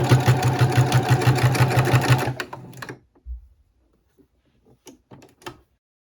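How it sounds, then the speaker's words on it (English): A sewing machine runs steadily, stitching tote bag straps for about two seconds with a rapid rhythmic whir, then stops, leaving a few faint clicks and handling sounds. "You can sew section by section."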